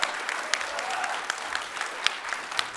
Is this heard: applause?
yes